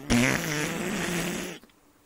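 A human mouth imitating several fart noises at once, a loud, close, buzzing chorus of raspberry sounds that runs for about a second and a half and then cuts off.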